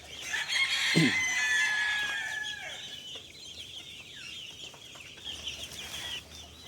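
A rooster crows once loudly up close over softer clucking and chatter from chickens in a small backyard poultry farm, with more distant fowl sounds continuing afterward.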